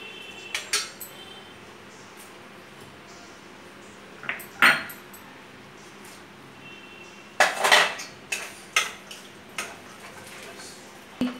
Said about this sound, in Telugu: దీనికి ముందే ఉడికించి పెట్టుకున్న క్యారెట్ బఠానీ వేసుకుందాం.